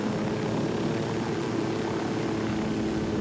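A military helicopter in Ghost Recon Wildlands keeps up a steady, loud rotor and engine drone, close and continuous with no talk.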